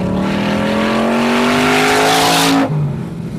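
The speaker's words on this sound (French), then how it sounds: "Mais si la puissance fournie par ces moteurs est impressionnante, le bruit l'est aussi." A Chevrolet Corvette Stingray engine roars loudly and close, its pitch climbing steadily as it accelerates hard for about two and a half seconds before cutting off abruptly into a fading hum.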